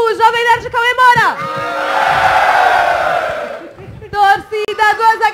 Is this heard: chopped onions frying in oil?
no